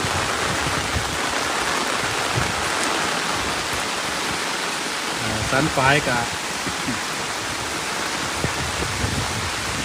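Rain falling over a dug-out canal with a check weir, water rushing steadily in a broad constant hiss, with someone briefly speaking over it midway.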